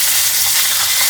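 Fish sizzles in a hot pan over high heat, freshly salted, giving a dense, steady hiss that stays loud and even from start to finish with no voices.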